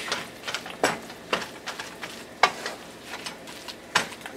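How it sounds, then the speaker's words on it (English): A stuffing mixture for a stuffed pork tenderloin being stirred in a pan, with repeated sharp scrapes and knocks of a utensil every half second or so over a low sizzle, close and with nobody talking. "Get this a stir right quick. We're gonna mix this in."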